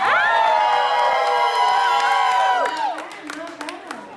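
A comedy show audience cheers and whoops loudly for a few seconds, a bright crowd roar that fades into scattered shouts and a lower voice near the end.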